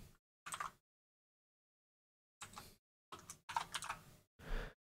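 Numbers typed on a keyboard, a single tap, a pause, then several quick bursts of close key clicks in a quiet room, no voices.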